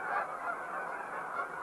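Flock of Canada geese honking at Horicon Marsh, a dense continuous chorus of many overlapping calls at moderate distance, steady and unbroken.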